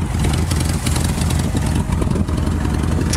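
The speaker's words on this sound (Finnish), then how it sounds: "Taitaa olla tuo moottori aika loppu." Worn-out Mercedes car engine idling on an ice track in winter, a loud, steady, rough rumble with slight irregular fluctuations throughout and no speech.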